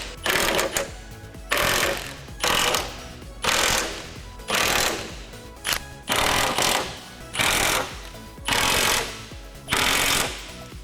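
An impact wrench hammers the bolts of a Z1 'W' brace on a Nissan 350Z tight, firing in about eight loud, rattling bursts of roughly a second each, separated by short pauses.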